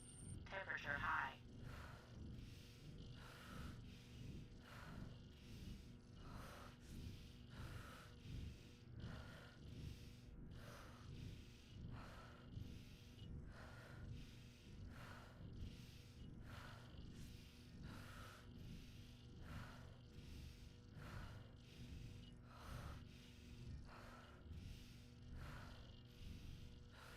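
A character's heavy breathing in the Stationeers video game, triggered by high temperature: slow rhythmic rasping breaths repeat roughly every second and a half over a low steady hum, with a short alert tone near the start.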